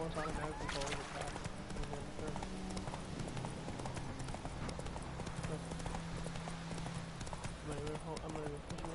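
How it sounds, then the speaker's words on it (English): A horse gallops along a path in The Witcher video game, its hooves drumming steadily and loudly throughout, with people talking over it. "The horse automatically follows the path."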